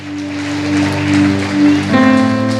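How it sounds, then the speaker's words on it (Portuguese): A church congregation applauds in a steady, dense wash of clapping that carries through the whole stretch, with sustained musical tones underneath that shift near the end. "dê glória, dê um aplauso ao Senhor"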